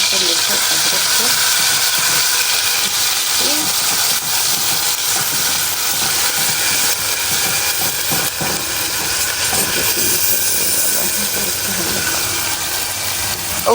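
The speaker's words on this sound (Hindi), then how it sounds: "यहाँ पर हमने अच्छे से लहसुन अदरक को भून लेना है" Garlic and ginger fry in a home kitchen pan with a steady, loud hiss and sizzle that runs unbroken from start to finish, with no clear voice over it.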